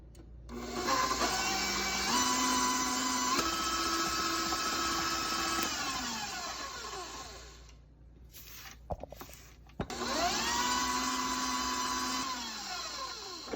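A stand mixer fitted with a paddle attachment creams butter and sugar with a loud, steady motorized whir that shifts pitch as the speed changes, winds down, then starts up again after a few soft clunks.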